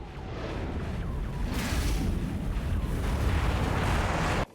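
A video game boss blows up in a long, roaring explosion, a dense continuous rumble with swelling bursts of crackling debris that holds for over four seconds before ending sharply.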